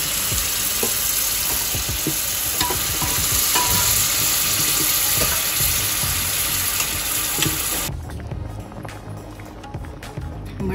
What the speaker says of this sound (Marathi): आता आपण त्यात मटर टाकून घेऊया।